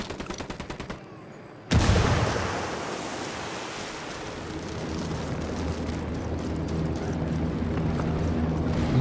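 Frag grenade explosion in Ghost Recon Wildlands, a sudden loud blast cutting through rapid gunfire, followed by a long roaring, rumbling wash of debris and ambient noise that fades slowly.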